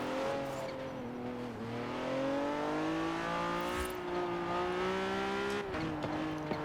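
High-grip all-wheel-drive, mid-engine widebody Honda NSX driven in the video game Forza Horizon 4: a steady, sustained engine drone with rising pitch as it accelerates, briefly dipping at a shift, with faint tire noise and no talk.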